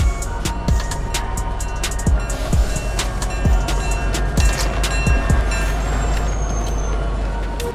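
A moving train in the Fortnite video game, rolling steadily with a constant low rumble and a regular series of sharp clacks, close and fairly loud throughout.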